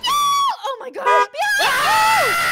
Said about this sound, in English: that was a pretty good scream already